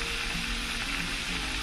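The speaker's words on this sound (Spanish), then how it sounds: "Aquí estamos friendo" Meatballs fry in a pan, giving a steady, dense sizzle and crackle that stays even throughout, with no talk.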